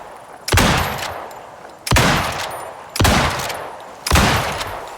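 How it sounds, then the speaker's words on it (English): A hunting rifle in a video game fires four loud, sharp shots spaced about a second apart, each with a short trailing echo. "if I stop recklessly shooting, I actually hit my targets"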